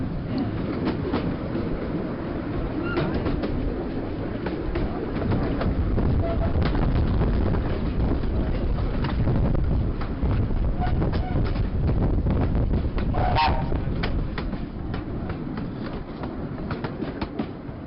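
A small Cleethorpes light railway train runs steadily along its seaside track, with a continuous rumble and faint rhythmic clatter of wheels throughout, plus some wind noise.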